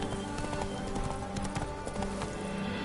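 Horse hooves clip-clopping at a fast pace in the game The Witcher 3: Blood and Wine, a rapid steady drumming of hoofbeats under a dense, loud game soundscape.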